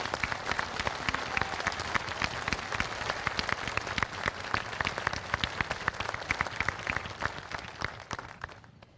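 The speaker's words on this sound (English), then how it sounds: "Let's give Stephen Penner a round of applause for his commitment to serve our nation." Audience at a high school commencement ceremony applauding, crisp dense clapping held steady throughout before easing off in the final second.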